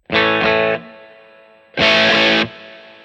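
Two bursts of heavily overdriven electric guitar chords through a Line 6 POD Go amp modeler preset, loud and buzzy, each ringing out briefly before being cut off.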